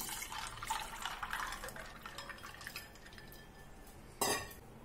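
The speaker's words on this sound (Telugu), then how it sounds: "దీంట్లో బాగా చల్లగా ఉన్న నీళ్లు పోయాలి" Very cold water poured into a bowl holding ice cubes, a soft trickling pour at close range followed by a brief sharp clink near the end, quiet overall.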